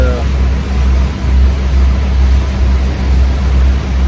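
The engine of an offshore fishing motorboat passing on a river drones steadily nearby over a low rumble, with a voice talking briefly near the start.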